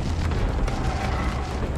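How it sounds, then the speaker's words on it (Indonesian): Firecrackers going off in the film A Quiet Place, a dense, continuous rumble of booming bursts that stays loud and steady for the whole stretch with no voices. "membuat monster itu hanya mendengar suara petasan dari luar"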